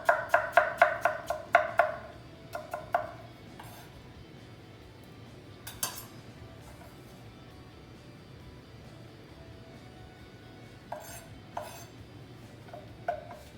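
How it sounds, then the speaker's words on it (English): A knife chopping food into pieces for chia pudding, a quick rhythmic run of sharp taps on a board at first, then sparse single knocks and clinks with quiet gaps. "I'm going to chop some smaller pieces to go into the pudding, and I'll chop some bigger pieces to go on top later"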